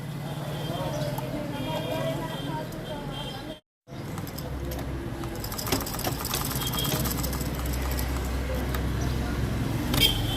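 Traditional hand-style sewing machine in a main-street tailoring stall doing crosswise stitching on a blouse, a continuous rattling whir with a brief full stop midway, under street noise and nearby talk.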